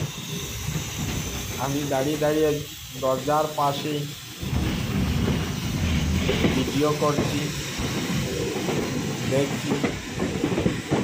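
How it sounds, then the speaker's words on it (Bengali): A Guwahati–Silchar special train pulls out of Guwahati at night in heavy rain, giving a steady hissing rumble of wheels and carriage noise heard from beside an open door, with someone talking over it. "গুয়াহাটি শহর থেকে ট্রেনটি বের হচ্ছে"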